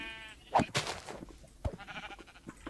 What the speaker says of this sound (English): Right here, you can see the brown sheep.